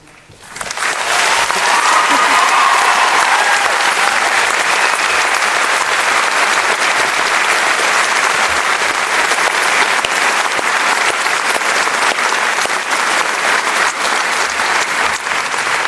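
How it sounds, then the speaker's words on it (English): Graduation ceremony crowd breaking into applause, a sudden swell into a loud, dense, sustained roar of clapping from a large audience that holds steady throughout. "you can manage a better round of applause than that"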